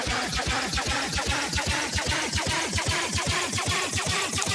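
A sample pitched down an octave plays as a dense, dark loop of rapid low thumps under a wash of noisy upper texture, continuous and steady throughout.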